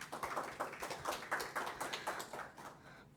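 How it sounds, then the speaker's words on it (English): A small group claps in brief, uneven applause that fades out after a few seconds. "Can we all give a round of applause for Stephen, please?"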